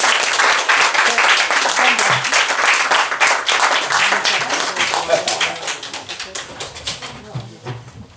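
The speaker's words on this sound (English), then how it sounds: "A warm round of applause for Geraldine" An audience at an author event greets novelist Geraldine Brooks with warm applause. The clapping is loud at first, then thins and fades over eight seconds, with a faint cooing pigeon-like sound in the background.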